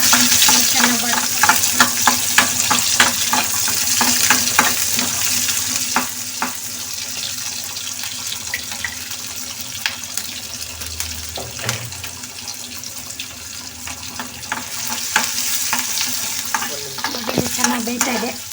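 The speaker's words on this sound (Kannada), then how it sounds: "ಹೀಗೆ ತಿರುಗಿಸ್ತಾನೆ ಇರಬೇಕು, ಯಾಕಂದರೆ ಈರುಳ್ಳಿ ಒಂದು ಸೈಡು ಒತ್ತುತ್ತಾ ಇರ್ತವೆ" Onions, added after mustard and cumin seeds, fry in a pan with a continuous close sizzle, broken by frequent scraping strokes as they are stirred around.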